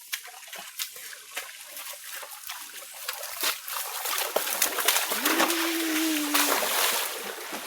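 A shallow stream trickles and splashes softly on a farm trail in the Philippine countryside, faint and close, with scattered drips and a brief whistle-like tone partway through, and no talking.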